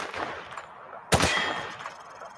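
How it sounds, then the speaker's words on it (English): Hip-fired automatic gunfire in a Call of Duty match: a single sharp loud burst cracks out near the middle, trailing off against a steady background of game ambience. "He sprayed bullets all over the damn place."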